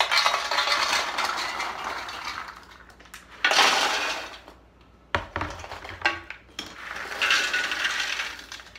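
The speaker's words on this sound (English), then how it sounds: "I'm just going to give them a toss" Jalapeño pretzels are tossed in a metal baking roaster, with bursts of rattling, clattering pieces sliding and shaking against the pan separated by short pauses, close and fairly loud.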